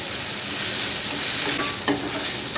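Tomatoes and ground chana dal paste sauté for kuzhambu, a loud dense sizzle with a stirring scrape and clatter near the end.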